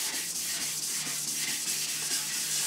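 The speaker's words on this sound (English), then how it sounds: "I'm going to scuff it up. That's all it is, just to get, just gently with the pad" A sanding pad gently scuffs satin paint on a motorcycle project, giving a steady, continuous hiss with soft rhythmic strokes and no talking.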